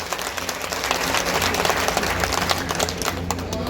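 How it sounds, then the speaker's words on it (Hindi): Steady applause from a crowd at a political reception on stage, welcoming a speaker at a J&K Congress event, dense and continuous with a little background voice underneath. "जोरदार तालियों से स्वागत करें।"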